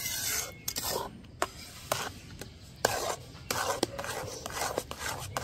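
Palm fruit kheer being stirred in a wok over a wood-fired clay stove, with repeated rasping scrapes of a spatula against the pan in an irregular rhythm, close and fairly loud.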